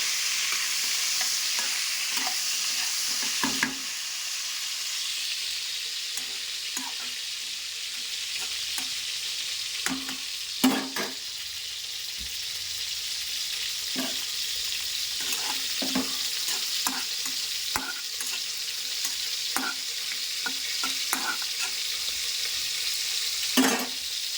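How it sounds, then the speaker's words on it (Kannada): Brinjal (eggplant) pieces fry in a pan with a steady broadband sizzle, punctuated by repeated clinks and scrapes of a spoon stirring, close and fairly loud, with no talking. "ಈ ಕಡೆ ಬದನೆಕಾಯಿ ಕೂಡ ಫ್ರೈ ಆಗ್ತಾ ಇದ್ದಾವೆ"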